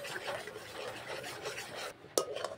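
Semolina is stirred into boiling water in a pot as it thickens into dough, giving a steady close scraping and rubbing that ends with a sharp utensil clink.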